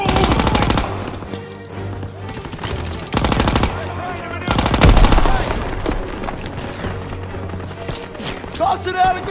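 Machine gun fire rattles in Call of Duty WW2 during a firefight on a staircase, with loud, repeated bursts of rapid shots, a heavy boom near the middle and shouting voices between the volleys.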